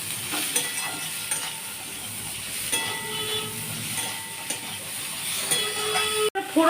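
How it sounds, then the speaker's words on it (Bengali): Green beans with salt sizzle steadily in a pan of onion and whole-spice tempering, a continuous close frying hiss broken by occasional scrapes and clinks of a stirring spoon, with no one talking. "ফোড়ন দিয়ে পেঁয়াজ দিয়ে বিনসটা ভাজা হয়ে গেছে অল্প"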